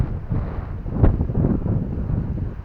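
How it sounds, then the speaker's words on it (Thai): Strong summer storm wind gusts roar and buffet the microphone in a steady low rumble, swelling at moments as rain arrives, with no talk over it. "พายุฤดูร้อน หนีก่อนครับพี่น้องครับ"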